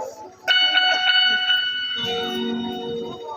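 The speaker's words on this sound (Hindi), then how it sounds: "जब कन्हैया आएगा मटकी को पकड़ेगा तो घंटी बजेगी" A small bell tied to a clay pot rings in a few bright, quick strikes, then continues under a voice that starts speaking partway through.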